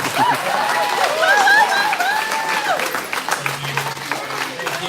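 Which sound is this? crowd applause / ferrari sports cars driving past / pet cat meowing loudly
crowd applause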